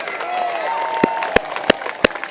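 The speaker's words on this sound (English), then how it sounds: "Got one more chance, a bit more clapping" A few separate, sharp hand claps ring out from an arena audience after a sustained voice, sparse and spaced rather than a full round of applause.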